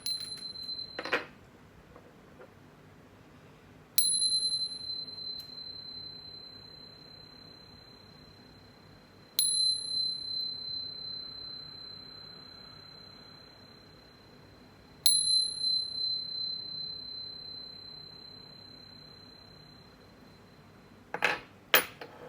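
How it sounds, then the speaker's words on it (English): A chime struck about five times at widely spaced intervals, each a clear, bright ringing tone that decays slowly in a quiet room. "But first, let's chime."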